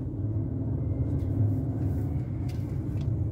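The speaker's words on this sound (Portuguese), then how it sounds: "Motor silencioso demais, né? Motor, ó, bem silencioso." A 2020 Hyundai HB20 Sense with a 1.0 engine hums quietly from inside the cabin, a low, even rumble at idle with no sharp changes throughout.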